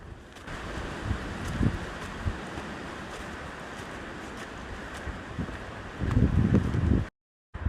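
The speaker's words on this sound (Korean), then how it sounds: "저 위에 바람 소리가 예사롭지가 않은데" Strong wind sweeps across a mountain ridge on Duryunsan in Haenam, a continuous rushing roar buffeting the microphone, rising into heavier gusts near the end before cutting off abruptly, with no speech.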